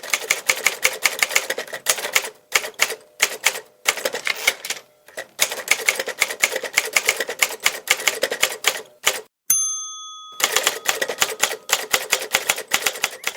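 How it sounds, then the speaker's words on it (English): A typewriter clatters close up in rapid bursts of key strikes separated by brief pauses, with a carriage-return ding and a slide around the middle, then more steady typing. "I know it's from a typewriter."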